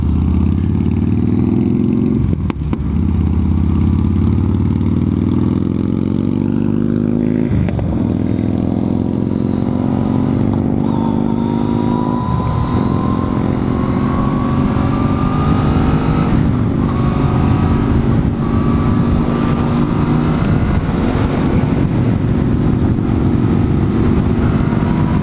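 A 2014 Yamaha FZ-09/MT-09 motorcycle engine revs hard on a test ride near Clearlake, California, its pitch climbing repeatedly through the gears with brief drops at each shift, loud and close over constant wind rush.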